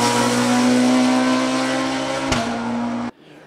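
BMW Compact rally car engine screaming at high revs, a loud sustained near roar with one sharp crack near the end before it cuts off abruptly into quiet.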